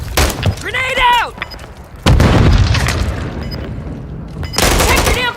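A grenade explodes amid gunfire in Call of Duty MW III, two loud booming blasts a couple of seconds apart, each followed by rattling shots, with a shouted voice heard just before the first.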